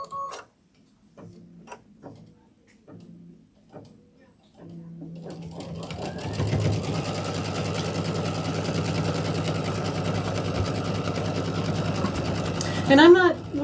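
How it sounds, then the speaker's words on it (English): Embroidery sewing machine stitching a placement line on quilt fabric, starting after a few quiet clicks and beeps and then running as a steady rapid ticking whir, close and loud, for the remaining eight seconds. "So we're going to do the placement stitch for that right now."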